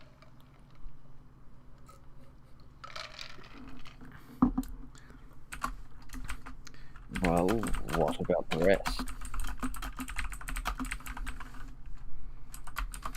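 Rapid typing on a computer keyboard clatters continuously at close range, with keystrokes bunching into louder bursts partway through, while people talk over it.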